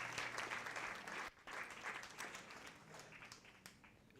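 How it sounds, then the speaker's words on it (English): Symposium audience applauds the panelists at a women's event, continuous room-filling clapping with a brief dip in the middle before it carries on. "Can we please give a round of applause for all our panelists?"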